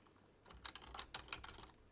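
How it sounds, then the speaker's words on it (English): Quiet keyboard typing while entering a formula in an Excel spreadsheet, a short burst of soft, rapid key clicks lasting about a second and a half, with no voices. "As I type the word average"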